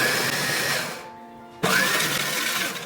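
A mixie food processor blends custard apple pulp in two loud whirring bursts, the motor spinning down and stopping briefly before whining back up, close and without any voice.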